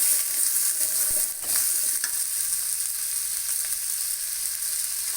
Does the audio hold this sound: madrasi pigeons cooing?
no